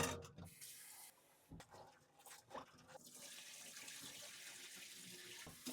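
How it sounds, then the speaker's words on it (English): Running tap water splashes over sorrel petals being washed in a kitchen sink for a Jamaican sorrel drink, with the stream starting and stopping and turning into a steady, close hiss of flowing water. "I'm going to wash off these sorrel petals"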